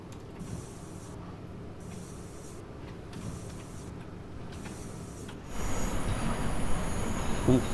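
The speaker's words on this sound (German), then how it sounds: "ein Vectron fährt auch direkt ein" A Vectron locomotive pulls in at a snowy Frankfurt S-Bahn station in Train Sim World 5, with a steady rolling rumble and high wheel squeal, rhythmic hissing pulses, then a louder closer rush as it arrives.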